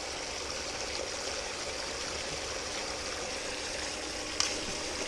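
Steady, broadband rush of creek water being fed through a quarter-inch filter, constant and fairly close, with a single faint click near the end and no talking.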